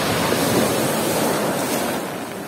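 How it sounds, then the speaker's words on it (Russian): Sea waves break along the shore of a rocky bay, a loud, continuous rushing roar mixed with wind. "О, какая волна пошла"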